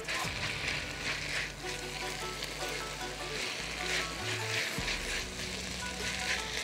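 Mixed vegetables for a fasting vegetable phyllo pie filling fry in a pan with a steady, close sizzle and occasional stirring scrapes, continuous throughout, no talk.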